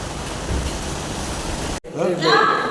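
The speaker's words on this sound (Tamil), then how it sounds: "மழை அது வாட்டுக்கு அடிக்குதுங்க பார்த்தீங்களா நல்ல மழை" Heavy rain pours down outdoors as a dense, steady hiss for almost two seconds, then cuts off abruptly and is followed by a different, fainter wash of noise.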